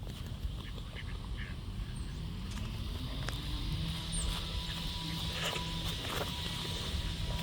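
Ducks quack and Canada geese honk at a neighborhood lake, with scattered calls over a constant noisy outdoor background and no clear talk.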